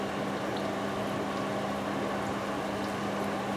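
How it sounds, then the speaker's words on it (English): Lamb's fry and bacon frying in a pan, a steady, even sizzle with constant crackling hiss and a faint underlying hum, no pauses or voices. "now what I'm just going to do is fry all this off"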